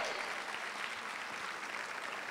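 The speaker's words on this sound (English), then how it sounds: "Give Michael Armstrong a round of applause" An audience at a talk-show appearance applauds continuously, a dense, even wash of clapping from a crowd that holds steady throughout.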